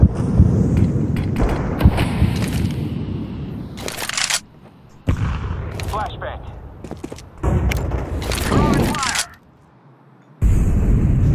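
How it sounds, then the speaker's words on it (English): A flashbang grenade bursts in Counter-Strike 2 amid several sharp thuds and bangs spread through the stretch, with a voice speaking briefly between them. "Flashbang."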